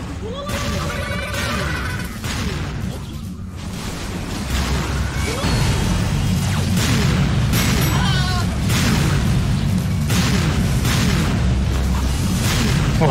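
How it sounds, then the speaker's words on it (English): Cannon fire and explosions in the first-person shooter Serious Sam 2 make dense, continuous booming bursts layered over loud game noise, with no pauses throughout. "I see the cannon firing"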